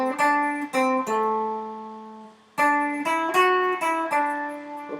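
Electric guitar playing a blues lick in A over an implied 12-bar progression, with no backing track: clear, ringing single-note phrases and sustained bends, with a short pause midway before the phrase resumes.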